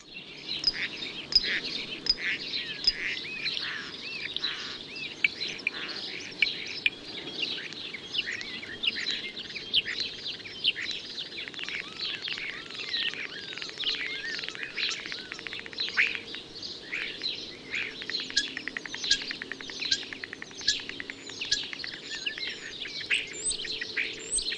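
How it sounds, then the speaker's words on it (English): A starling sings from a house chimney pot, a busy stream of chirps, whistles and rattling clicks from its bill, steady and moderately close, with a faint low hum beneath and no talking. "This starling is singing and rattling his bill on a chimney pot on my house."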